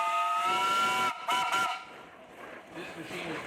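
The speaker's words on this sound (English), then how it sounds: "Any whistles, Jack?" A steam traction engine whistle sounds at a steam show, a strong tonal blast that breaks off briefly and resumes in a second short toot, fairly close over outdoor crowd noise.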